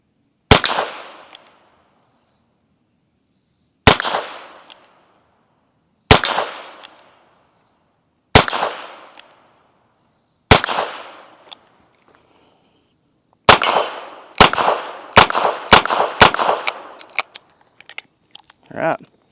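Ruger GP100 revolver in .22LR fired one-handed in single action: five evenly spaced sharp cracks about two seconds apart, then a quicker burst of five or more shots, loud and close, with no talk over them.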